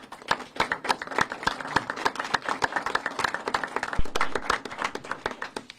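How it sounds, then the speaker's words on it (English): A small crowd claps for the homicide division at a Harris County gathering, a dense, fairly close patter of many hands with individual sharp claps standing out, lasting several seconds without talk. "will you please join me in a round of applause?"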